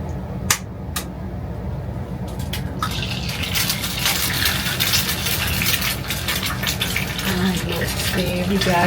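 Eggs sizzling and spattering in a hot pan at home, a steady broadband crackle building after a brief clink and lasting throughout, close and fairly loud.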